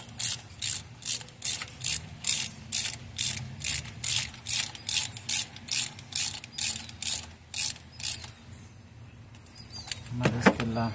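A ratchet tightens a spark plug on a 2003-2006 Honda Element with the 2.4 engine, giving a steady run of about twenty sharp, evenly spaced clicks close up before a brief clunk of handling at the end.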